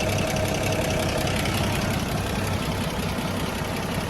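The Toyota 2F engine of a 1979 Toyota idles in a steady, close, rumbling drone with a faint knocking texture, continuous and unchanging throughout.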